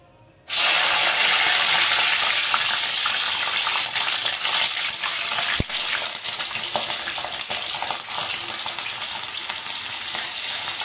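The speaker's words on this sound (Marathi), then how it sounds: "त्याच्यासाठी आपण इथं मिरची तळून घेणार आहोत" Green chillies for pav vada drop into hot oil and deep fry with a sudden loud burst of crackling sizzle. It holds steady and bubbling throughout, with one sharp knock partway through and no talk.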